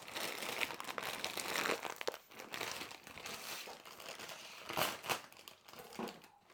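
Plastic bag of frozen hash browns crinkling and rustling as it is shaken out, a steady close crackle with a few louder crunchy bursts near the end.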